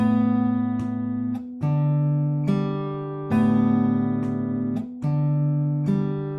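Guitar fingerpicking pattern with pinches on the fifth and second strings alternating with thumb and index on the fourth and third, clear plucked notes ringing in a steady repeating rhythm, close and alone.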